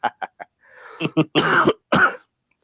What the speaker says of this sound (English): Man, I got the cough all of a sudden.